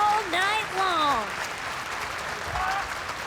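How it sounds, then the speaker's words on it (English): A wrestling crowd at the Curtis Culwell Center in Dallas, Texas applauds and cheers steadily in a large arena, underneath a commentator who talks over it. "Great response from the fans here at the Curtis Colwell Center in Dallas, Texas."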